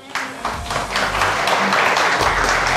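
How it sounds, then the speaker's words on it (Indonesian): A studio audience on a televised Indonesian youth dialogue show claps steadily, the broadband applause building after a brief start and holding dense and loud throughout, with a faint voice beneath. "Tepuk tangan buat Mbak Sarah."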